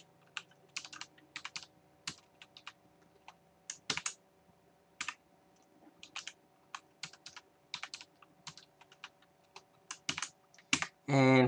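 Typing on a computer keyboard while entering a new password, with quick bursts of clicking keystrokes in short irregular runs, fairly close, over a steady low hum and ending in a louder rustle.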